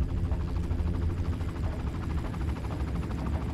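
In the video game Far Cry, a helicopter approaches as a continuous, throbbing rotor drone with a rapid, steady pulse. It is moderately loud and heard without speech.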